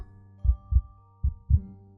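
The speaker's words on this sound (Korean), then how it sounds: "들리는 건 자기의 콩콩대는 심장 소리뿐" A slow, deep heartbeat thumps in paired beats over a low sustained drone, the pounding effect used to build tension in a horror story, heard alone without talk.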